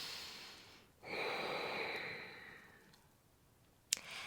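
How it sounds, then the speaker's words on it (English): A long, slow breath of a birth breathing exercise, a soft airy exhale lasting a couple of seconds and fading, followed by a short sharp sniff near the end, close and quiet. "you can start practicing those birth breaths"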